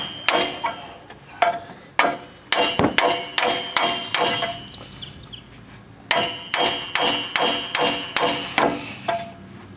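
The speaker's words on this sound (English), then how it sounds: "Alright, so I got my hammer, and we'll hit it a couple times and see what we can get." Steel hammer blows ring out against a TrailBlazer's suspension during a ball joint job, a long series of sharp metallic strikes in quick irregular bursts, close and loud with brief pauses between groups.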